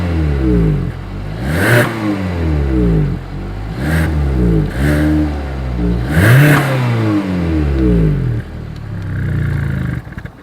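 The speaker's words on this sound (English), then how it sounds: "So as always, here is that exhaust clip." A 2020 Hyundai Tucson with dual chrome exhaust tips is revved repeatedly from idle, about five sharp rising and falling blips, loud and close at the tailpipes with no talking.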